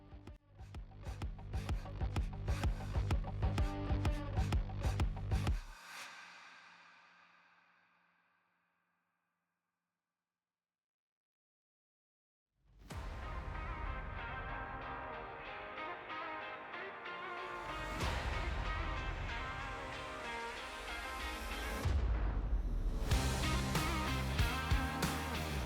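A ratchet with a 17 mm socket works loose the tight front brake caliper carrier bolts on a 2021 Hyundai Venue, giving rapid clicking bursts in a home garage, then a pause of near silence before more close, busy mechanical clatter resumes.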